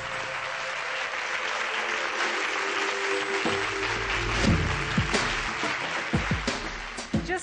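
Loud, sustained applause from an audience at an awards ceremony, a standing ovation with steady clapping throughout and some sharper claps toward the end.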